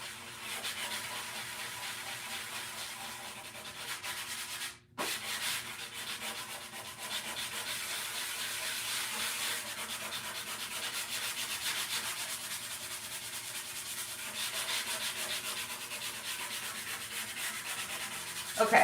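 Sanding by hand to distress paint on a thrifted wooden furniture piece, a continuous close scratchy rubbing with a brief pause partway through, then steady again to the end.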